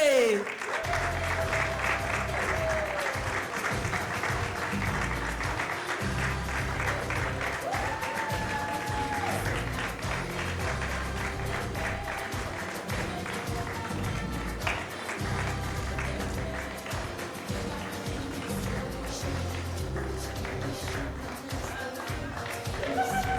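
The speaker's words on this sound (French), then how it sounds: "sous de chaleureux applaudissements, Zakari Bababaswe." A large crowd applauds loudly and continuously, dense clapping filling the whole stretch, with some cheering and music-like tones mixed in.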